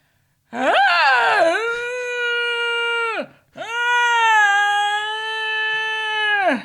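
A French bulldog lets out two long, loud, wavering howling whines, close by, with a brief pause between them and nothing else around.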